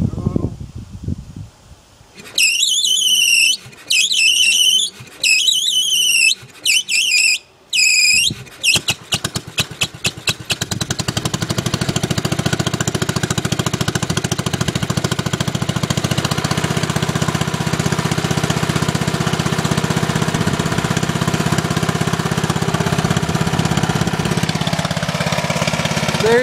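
A smoky farm tractor engine cranks over with several stuttering bursts, catches after a few seconds and settles into a loud, steady running roar with a rough, uneven throb, close by.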